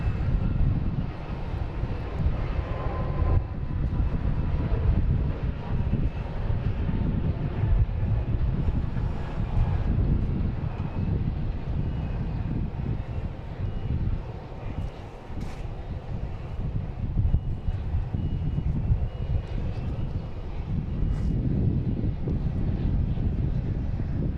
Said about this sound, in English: next taking off, we have a JetBlue heading to Fort Lauderdale